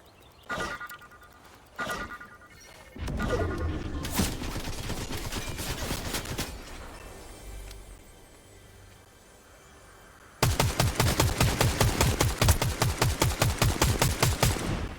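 Fortnite gunfire rattles in rapid bursts, with a few separate shots at first, then sustained automatic fire, and finally a loud, fast, evenly spaced volley close up.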